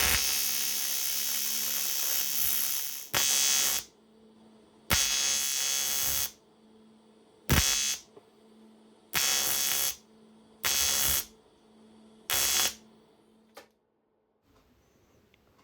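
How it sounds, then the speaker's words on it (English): A TIG welder builds up weld on a broken cooling fin of a Kawasaki Z1 motorcycle barrel, a harsh steady buzzing hiss in one long burst followed by several short bursts separated by silence. "Then with my TIG welder, you build up a weld starting at the bottom and gradually working your way up to the top"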